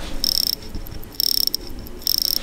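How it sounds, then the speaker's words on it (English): Crown of a Seagull ST36 mechanical watch movement, in a stainless steel case under sapphire crystal, being wound by hand: bursts of fine, rapid ratcheting clicks in three close, fairly loud runs, with soft pauses between. "Oh, I just love winding this watch up."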